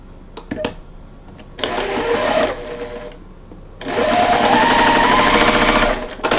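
A sewing machine stitches quilt block pieces in two close, loud runs of rapid rhythmic whirring, the second longer and steadier, with a few clicks at the start.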